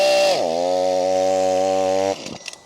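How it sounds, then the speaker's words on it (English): A small Stihl MS 182 chainsaw revs loud and close, its engine pitch dropping and then droning steadily before cutting off abruptly, followed by faint clatter. "let's give the little Stihl MS 182 a little roll"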